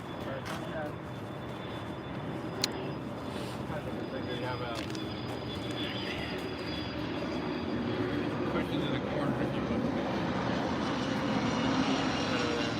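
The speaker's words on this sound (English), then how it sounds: "Oh, here comes another small plane." A small propeller plane drones over Reykjavik harbor in Iceland, a steady engine hum that slowly grows louder across the clip beneath outdoor ambience and people talking nearby.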